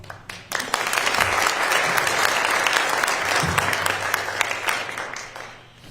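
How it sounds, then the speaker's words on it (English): An audience at a Las Cruces community meeting with the police chief breaks into sustained applause, a dense patter of many hands clapping that swells quickly, holds steady, then fades out. "So, the round of applause should be for you guys"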